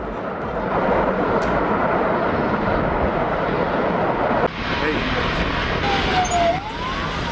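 Firefighting helicopters flying over a fire, heard as a loud, steady roar of rotor and engine noise throughout, with a faint rising whine near the end.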